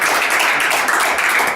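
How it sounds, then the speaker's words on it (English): An audience in a classroom-style setting bursts into applause, a dense, steady wash of clapping held at full level for a brief moment. "a big round of applause for you guys"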